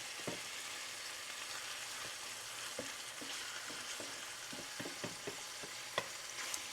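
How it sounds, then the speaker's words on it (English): Garlic and chicken fry in a pan with a steady, faint sizzle while a utensil stirs them, giving scattered light scraping clicks and no voices. "I'm trying to keep this garlic moving on the bottom because I do not want it to get too dark."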